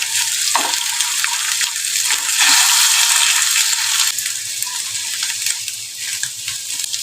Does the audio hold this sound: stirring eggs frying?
yes